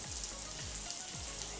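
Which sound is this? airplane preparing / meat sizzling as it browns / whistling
meat sizzling as it browns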